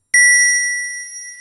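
A single struck tone from a synthesized mallet MIDI instrument, bright and bell-like with sharp attack, ringing out clean and slowly decaying, alone.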